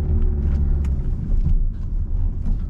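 A car rumbles steadily from inside the cabin as it accelerates gradually through the gears on a driving lesson, engine noise low and continuous with slight surges, no clear gear change standing out.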